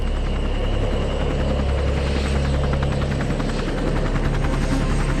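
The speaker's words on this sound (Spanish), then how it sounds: "¡Un helicóptero, papá!" A Huey helicopter flying overhead, its loud steady rotor thump and engine drone filling the air continuously.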